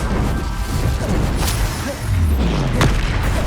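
A fire spell blast from the Hogwarts Legacy video game on PC: deep booming bursts and crackling impacts over a steady background rumble, with no one talking.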